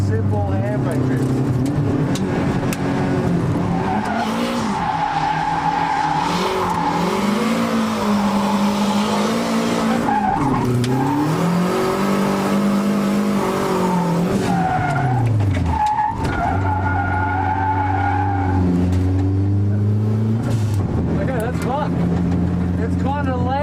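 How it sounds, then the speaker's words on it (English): A car does a handbrake drift, its engine revving and tires squealing and skidding in long, loud sweeps, with the engine pitch rising and falling through repeated pulls for over twenty seconds. "We'll start off with a simple handbrake drift."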